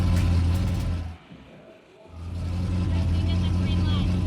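A burnout car at a big burnout competition in Australia roars loudly with a deep, rumbling engine drone that dips briefly and then returns strong, while a commentator talks over it.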